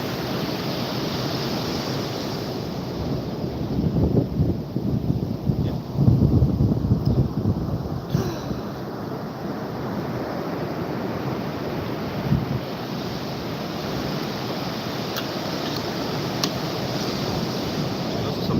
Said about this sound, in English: Those are some big old waves right there.